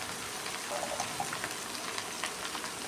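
Ridge gourd fries in a pan with red chili powder, turmeric and salt, giving off a steady close crackling sizzle with scattered small pops and no voices.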